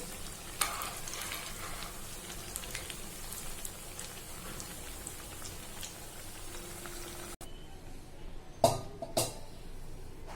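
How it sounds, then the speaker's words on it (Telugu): Corn vada fritters deep frying in hot oil, giving a steady close crackling sizzle with scattered pops that quiets near the end and is followed by a couple of louder clatters. "మంచిగా రెడ్డిష్ వచ్చేదాకా వీటిని డీప్ ఫ్రై చేసేసుకోవాలి."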